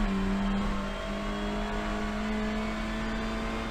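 In a racing video game, a race car's engine revs steadily at Lime Rock. It gives a fairly quiet, constant buzzing drone with a held pitch and slight wavers, and no voices over it.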